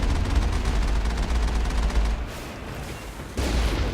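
Gunfire aimed at a turret in the video game Mass Effect, rapid sustained bursts of shots forming a continuous fusillade, briefly cutting out near the middle before resuming loud and steady.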